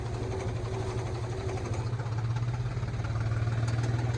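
A tractor engine chugs steadily while ploughing a muddy field, a low rhythmic drone with pulsing beats that grows slightly stronger toward the end, moderately close, with no talking.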